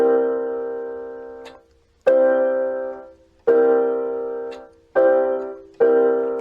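Piano playing a C seventh chord, struck five times in a steady pattern; each chord rings out and decays before the next, with no voice over it.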